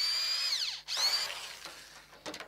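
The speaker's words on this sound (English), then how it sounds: "Have you ever used a drill like that before?" A handheld power drill whines at high speed, its pitch falling as it slows, then rising again before cutting out, followed by a few short mechanical clicks and knocks nearby.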